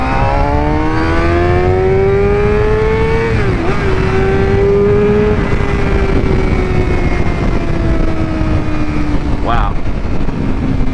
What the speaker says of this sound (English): I redlined this bike.